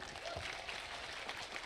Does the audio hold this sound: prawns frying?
no